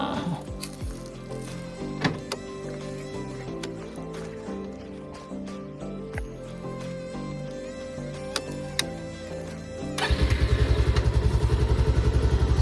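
A motorcycle with a full tank and about 1500 km on it runs along an off-road village road, engine a steady close drone with ticking, clattery mechanical noise and occasional knocks, rising into a louder rougher rumble near the end.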